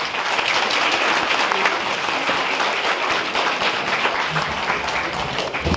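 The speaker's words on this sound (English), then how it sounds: "Let's give all the volunteers a big applause." An audience at a public library quilt show applauds the volunteers, steady dense clapping at a constant level from start to finish.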